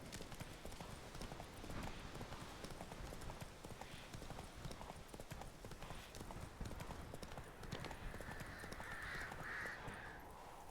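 Roach the horse clip-clopping at a steady gallop in The Witcher 3, fast hoofbeats continuous under game ambience, with a few crow caws rising near the end.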